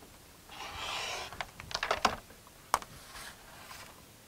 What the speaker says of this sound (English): I'm going to cut several strips here